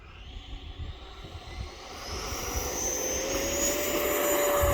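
An E-flite Viper 90mm electric ducted-fan RC jet takes off, its whine climbing steadily in pitch and loudness over a rough rumble of ground roll, with no talk.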